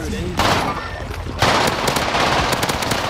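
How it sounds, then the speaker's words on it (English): Rapid bursts of video game gunfire as one player shoots at another, loud and dense, with a sharper second volley midway and scattered shots continuing near the end. "All I'm doing is shooting you, dude."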